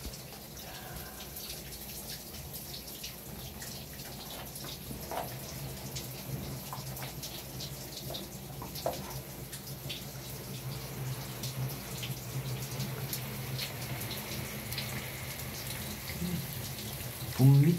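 Water streams steadily through the bottom of a Korean Chunlan orchid pot during winter watering, a continuous faucet-like splashing and trickling that stays close and moderately loud throughout, with occasional small drips and brief faint voice.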